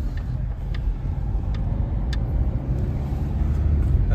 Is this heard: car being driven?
yes